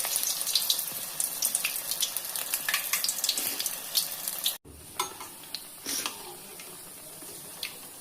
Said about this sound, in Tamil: நல்லா எண்ணெய் காஞ்சிருச்சுப்பா. இப்போ நம்ம போண்டா போட்டுக்கலாம்.